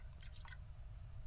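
Water draining from a valve in the point-and-click game The Last Door, a few quick liquid drips and gurgles over a low steady background hum.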